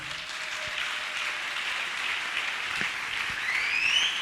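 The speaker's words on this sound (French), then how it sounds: "Clap your Amen. hands and worship." A church congregation claps their hands in worship, a steady dense wash of many hands at a moderate distance, continuous throughout without spoken words.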